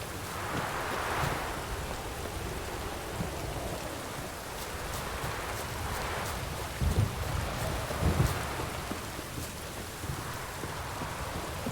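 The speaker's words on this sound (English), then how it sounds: "This downpour's a bastard" Heavy rain in the video game The Witcher 3 pours down steadily, a dense hiss with occasional louder splashes and low rumbles, with no voices.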